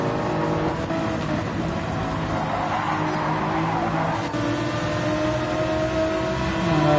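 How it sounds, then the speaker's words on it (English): A Porsche in a Gran Turismo 7 online race slides sideways amid a pack of loud race-car engines, with a dense, continuous roar of several motors and tyre squeal layered over it. "The Porsche went sideways."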